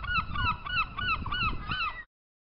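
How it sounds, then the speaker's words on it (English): Seagull giving a run of about six loud, evenly spaced harsh cries with a rising-falling shape, heard close and alone with no talk. "Seagull."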